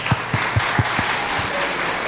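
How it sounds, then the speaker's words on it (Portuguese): An audience at a church testimony gathering claps, several distinct loud claps in a loose rhythm over a steady background wash of applause. "Palmas aí"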